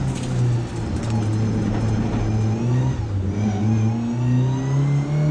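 A Mitjet race car engine drives in heavy rain at Magny-Cours, a loud, close, sustained drone that rises and falls through the gears, with a brief dip near the middle before it builds again.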